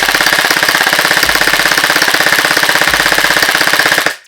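An Emerbu PDX gel blaster fed from an MK8 magazine fires a fast, steady full-auto burst of roughly fifteen shots a second, loud and close, rattling for about four seconds before stopping abruptly.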